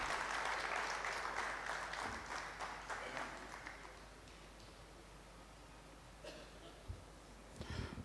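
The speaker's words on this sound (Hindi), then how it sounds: "तो बहुत सारी तालियाँ हम सब के अहमद शाह साहब के लिए" Applause from an audience at a tribute event in Karachi, a dense clapping that swells at first and then thins out, heard from a distance and fairly faint.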